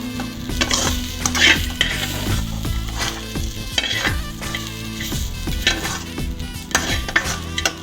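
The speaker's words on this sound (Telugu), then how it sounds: "ఈ విధంగా వేయించుకోవాలి." Ridge gourd peel fries in a hot pan while a spoon stirs and scrapes it, giving a steady sizzle broken by repeated close metallic clanks and scrapes, with no talking.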